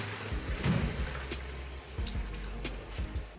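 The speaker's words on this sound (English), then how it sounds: "I add cold water and leave it like this for 5 minutes" Cold water is poured into a pot of boiled spaghetti, a fairly quiet splashing trickle with a few low knocks and no talking.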